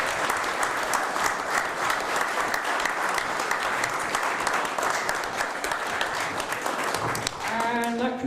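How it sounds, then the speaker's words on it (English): Steady, dense applause from an audience at a town council's annual meeting award ceremony, a broad wash of claps that carries on evenly before voices briefly surface at the end. "a big round of applause for all our award winners this evening"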